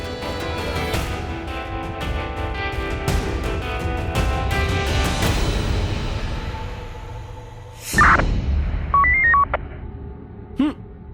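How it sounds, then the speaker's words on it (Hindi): A short electronic phone tone pattern rings out after busy music and noise fade, with a couple of bright beeps near the end. "फोन आ गया है युवराज के फोन पे, कॉल आ गया है"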